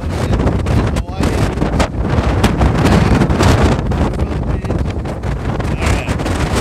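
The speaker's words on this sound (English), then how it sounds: "it's windy" Strong gusty wind buffets the microphone on Pacifica pier on a cold day, a loud continuous roar with sharp thumps and crackles, with faint surf and brief voices mixed in.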